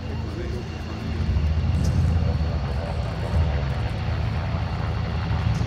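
A CH-148 Cyclone helicopter with twin 2,700-horsepower turboshaft engines flies along the shoreline at an air show at Patricia Bay, British Columbia, a continuous deep rumbling roar heard at a distance and swelling slightly, while a commentator talks over it.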